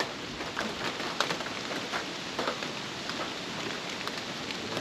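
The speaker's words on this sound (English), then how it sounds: "I got wind and rain" Steady rain pours down with a continuous wash of gusting wind, droplets pattering on surfaces throughout, fairly close and even in loudness.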